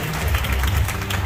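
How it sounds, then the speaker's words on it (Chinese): An audience claps for students at a ceremony marking the 37th school anniversary of Sanmin Vocational High School, a brief, loud, continuous burst of crowd applause filling the space. "请大家给我们的孩子们热烈的掌声鼓励。"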